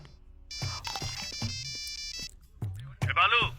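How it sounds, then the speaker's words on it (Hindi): A phone rings unanswered with a bright electronic ringtone, heard softly in the background under someone speaking in short bursts. "ये बालू फोन नहीं उठा रहा।"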